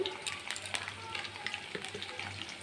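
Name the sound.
potatoes frying in oil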